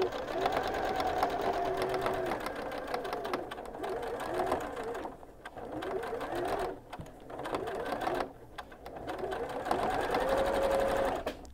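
A sewing machine stitches a ribbed cuff band onto a sleeve, sewing straight over pins, with a close, steady whirring drone that speeds up and pauses briefly a few times.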